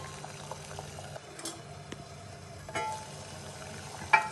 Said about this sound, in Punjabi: ਆਪਾਂ 10 ਮਿੰਟ ਇਹਨਾਂ ਨੂੰ ਹੋਰ ਉਬਾਲਾਂਗੇ